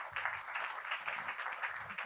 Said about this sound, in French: On va d'abord vous applaudir et vous remercier pour vos interventions